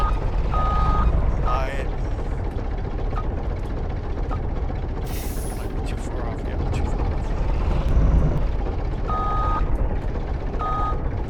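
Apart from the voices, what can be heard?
truck reversing beeps from a farming video game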